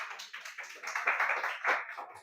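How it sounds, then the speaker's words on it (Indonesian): A classroom of students claps after a prompt-engineering lesson, short uneven bursts of hand claps rising and falling, moderately close and fairly light. "Oke, tepuk tangan."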